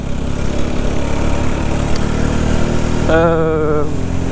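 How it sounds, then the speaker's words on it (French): A Rieju Century 125 motorcycle, a 15-horsepower 125 cc bike nearing the end of its break-in, drones loudly and steadily up close, its engine note rising under brief talk near the end. "c'est une petite 125 de 15 chevaux qui marche bien, qui accélère plutôt pas mal, passé 7000 tours minute"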